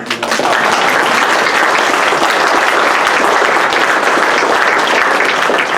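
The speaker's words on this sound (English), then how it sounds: "And you can applaud." Delegates at a convention session applaud together, a dense, steady wash of clapping that holds loud and even from start to finish with no voices on top.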